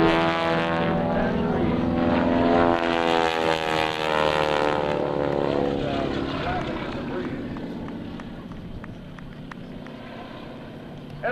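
A propeller airplane flies past at the 2001 NAES Lakehurst airshow, its engine drone loud and near before fading with a falling pitch as it moves away, while an announcer talks over a public address system.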